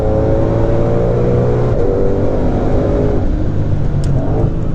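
A 2020 Ford Mustang Shelby GT500 pulls hard at full throttle on a highway, its engine roaring loud and close with a steady, rising drone and a brief shift-like dip partway through.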